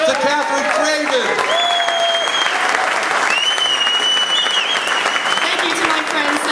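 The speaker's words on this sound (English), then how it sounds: "Let's give a big round of applause again to Katherine Craven." Audience applause after a speaker introduces an honoree at a public event, a steady continuous clapping from a large crowd that holds at an even level throughout, with faint whistles or cheers rising above it.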